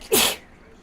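A single short, sharp sneeze bursts out close by and fades quickly into quiet.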